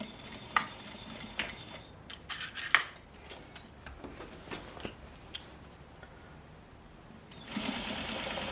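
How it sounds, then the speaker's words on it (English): Sewing machine stitching around the top of a skirt at a half-inch seam, with bursts of running motor and clicks broken by brief pauses, close by and fairly quiet, rising again near the end. "Now what I'm going to do is just sew around the top at 1/2 inch, putting it all together."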